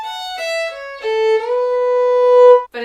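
Solo fiddle plays a short phrase of an Irish jig, clear sustained bowed notes stepping through the melody and rising to a long held tone, close and bright, with a fresh note starting at the very end.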